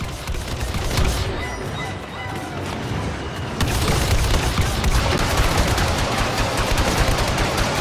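Sustained blaster and heavy-weapon fire in Star Wars Battlefront 2, dense and loud, with the barrage thickening halfway through into a continuous roar of shots.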